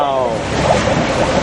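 An amphibious tour boat on a San Diego seal tour plunges into the water, giving a loud, steady rush of splashing and wash that fills the short moment, with a voice over it.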